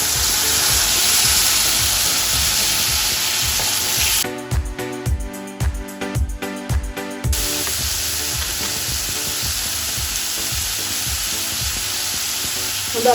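Chopped tomatoes go into a hot, sizzling pan while palak paneer cooks. A steady loud sizzle runs throughout, broken midway by a few seconds of rhythmic thumping and stirring before the frying hiss returns.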